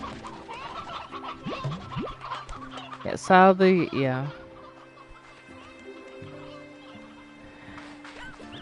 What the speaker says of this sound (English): These are the elder roosters, because, you know, your chickens do get old